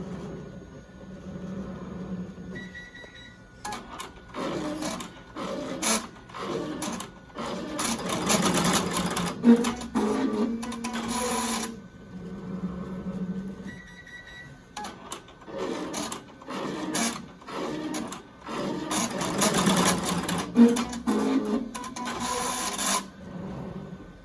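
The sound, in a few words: Melco embroidery machine stitching a fabric mask pleat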